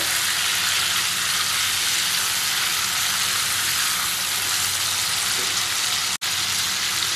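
Chicken cooking for tamatar gosht fries over high heat until golden, giving a steady, dense sizzle that holds at an even level throughout, with one sudden brief dropout near the end.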